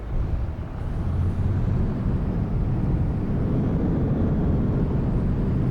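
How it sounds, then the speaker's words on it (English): A steady, deep coach bus engine rumble in Fernbus Simulator drones continuously and fairly loud, a low broadband roar with no talking over it. "it's quite nice that you actually hear the engine"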